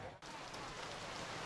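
Heavy tropical rainstorm pouring down in Phnom Penh, Cambodia, a dense steady hiss of rain on surfaces, loud and continuous after a brief dip at the start.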